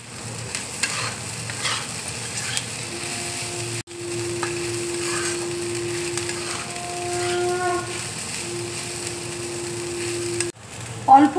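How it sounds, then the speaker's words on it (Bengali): Puffed rice tossed in a hot pan with turmeric and salt, giving a steady soft sizzle with scraping stirring strokes and a faint tonal hum beneath, near and moderately loud. "এবার আমি মুড়িটা দেখো দিয়ে দিচ্ছি"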